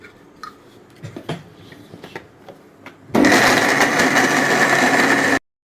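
Black urad dal and jaggery being ground in a mixer grinder: scattered clicks and taps, then a loud roaring whir starts and runs steadily for about two seconds before cutting off abruptly.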